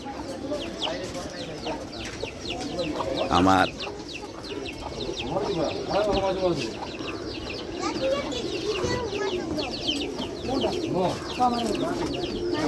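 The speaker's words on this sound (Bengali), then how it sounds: "জোড়া দিতেছে আমার পোলার কবুতর" Pet pigeons pairing up in a backyard loft, soft repeated cooing and bird calls mixed with clucking fowl, steady and close, with people talking throughout.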